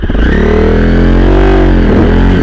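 A KYMCO Spade 150 mini scrambler motorcycle revs hard under open throttle on a forest trail, its loud, close engine note climbing and holding in a continuous buzzing roar with no voices.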